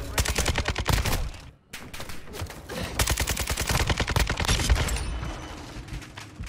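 Semi-automatic gunfire rings out in the video game Modern Warfare 2 as sharp shots crack in quick succession. The shots come in a dense, uneven stream, loud and close, with only a brief pause early on.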